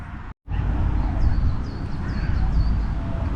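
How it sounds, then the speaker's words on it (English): A gull gives a run of repeated harsh cries over loud wind-like rumble, fairly near, after a brief cut at the start, in a London park. "There's a seagull."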